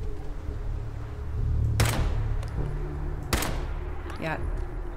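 Two sharp bursts of Fallout 4 gunfire crack out over a steady low background hum, each a short loud volley, with a faint chirp between them.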